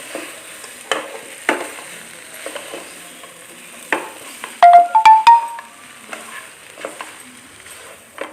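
Onions and coriander fry in a pan for a home-style Kerala chicken ularthiyathu, with scattered scraping and tapping of a stirring spoon, a quiet sizzle underneath and a brief run of electronic beeps midway.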